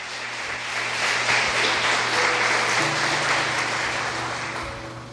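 A church congregation applauds, a steady crowd of clapping hands swelling and fading gently over several seconds, heard at moderate distance with a faint low hum underneath.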